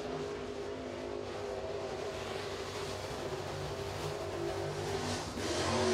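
Ryan King's crate race car with a Warrior chassis circles the 3/8-mile Crossville Speedway, its engine a steady distant drone that builds slightly in the last second.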